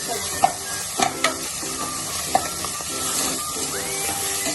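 Coconut masala and onion sizzle and fry in a pan while a spoon stirs them, with a steady hiss under repeated scraping strokes and a few sharper knocks, close up and without speech.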